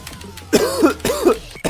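Two or three harsh, close coughs burst out in quick succession from one person, loud and wet, with a brief pause between them and no talk over them.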